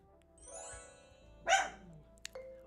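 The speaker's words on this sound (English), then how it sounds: "My dog is acting out." A dog gives one loud, close bark, followed by a couple of sharp clicks, with low background hum and no talk.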